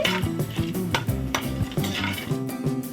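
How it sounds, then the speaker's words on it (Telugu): Whole spices for bagara rice frying in oil in a pan, a soft close sizzle under repeated clinking, scraping strokes of a metal spoon stirring them. "ఇప్పుడు కొంచెం వీటిని ఫ్రై చేసుకుందామండి"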